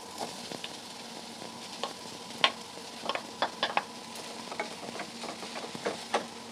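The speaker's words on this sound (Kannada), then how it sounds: "ಈರುಳ್ಳಿ ಇವಾಗ ಫ್ರೈ ಆಗಿದೆ ಇವಾಗ ಆಲೂಗಡ್ಡೆ ಸೇರಿಸ್ಕೊತಾ ಇದ್ದೀನಿ" Onions and potatoes fry in a pan with a steady low sizzle, broken by a scatter of sharp spatula scrapes and clicks of stirring, close up and with no talking.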